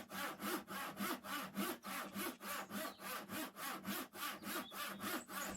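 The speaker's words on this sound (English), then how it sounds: "you don't want to sit there and watch me sawing" Hand saw ripping a long narrow strip from the middle of an old oak tabletop with swirly grain, steady rhythmic back-and-forth strokes about two per second, close and continuous with no talking.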